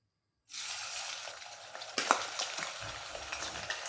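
Salt fish pieces dropped into hot oil begin sizzling abruptly after silence, a steady close fry with small pops and crackles and a louder spatter near the middle.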